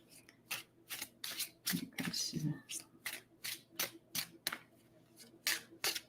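Tarot or oracle cards shuffled by hand for an intuitive reading, giving a run of quick crisp riffling bursts in steady rhythm, close and fairly loud, with a brief murmur of speech partway through.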